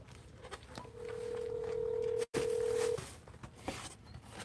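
A telephone being dialed for a call, with a clear sustained dial tone that breaks off briefly and resumes, over faint background noise and soft clicks.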